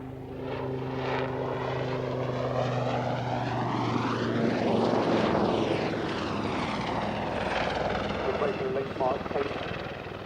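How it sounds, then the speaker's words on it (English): A Royal Navy Wildcat HMA Mark II shipborne attack helicopter flying at an airshow, its loud rotor chop and turbine whine sweeping past with a pronounced Doppler pitch shift, while an announcer talks over it. "The Wildcat HMA Mark II is the Royal Navy's shipborne attack helicopter."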